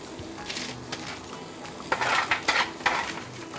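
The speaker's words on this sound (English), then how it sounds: "So now I'm going to add in my roasted vegetables." Roasted vegetables are tipped into a pan of onions with curry powder, garam masala and chili powder, with a few clattering knocks and scrapes of a utensil against the pan and a soft background hiss; no one talks.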